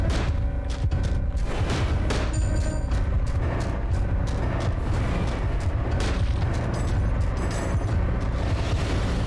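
Continuous heavy booming gunfire in the horror video game Illbleed as rings are shot, loud dense blasts and rumble packed across the whole stretch without pause.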